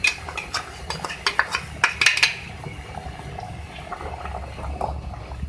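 Roasted cumin powder being stirred into beef aloo gosht in a pot: a burst of sharp metallic spoon clinks and scrapes early on, then a quieter bubbling simmer with occasional light taps.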